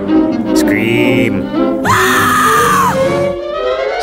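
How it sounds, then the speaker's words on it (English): A cartoon character in a Looney Tunes short screams loudly in two drawn-out shrieks, the second longer and rising, with music and background noise underneath. "Scream."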